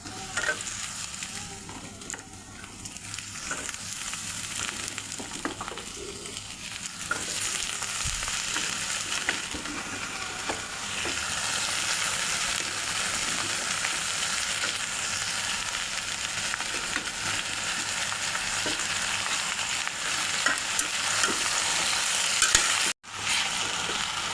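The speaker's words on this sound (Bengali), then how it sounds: "পেঁয়াজ কিছুক্ষণ নেড়েচেড়ে ভেজে কেটে ধুয়ে নেওয়া লাউয়ের ডুগা ডাটা পাতা মূলো সিম" Onion stir-fries with bottle gourd shoots, stems, leaves, radish and beans in a village kitchen in Mymensingh, a steady loud sizzle with stirring scrapes that keeps going and grows a little louder later on.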